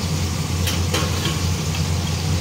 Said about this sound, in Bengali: এই যে কুমড়ো ভাজা হচ্ছে